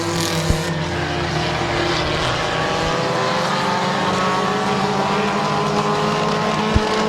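Race cars roaring around the Midvale Speedway oval, a dense, steady engine drone with layered harmonic whines from several cars at once, loud and continuous with a couple of sharp knocks.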